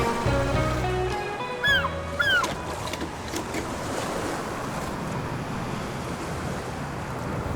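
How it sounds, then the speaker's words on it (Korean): Ocean waves wash and break on open sea with boats afloat, forming a steady, full rush of surf and wind. A few brief, high chirping calls rise over it early on. "고비치는 파도, 시리도록 푸른 넓고 깊은 바다, 그리고 그 위에 떠 있는 배들."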